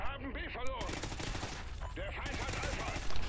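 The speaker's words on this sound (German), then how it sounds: "Ah, hier doch noch eine etwas höhere Schussfolge." Rapid automatic gunfire bursts in a Call of Duty Ghosts multiplayer match, loud, close cracking volleys, with a brief lull midway before the firing picks up again.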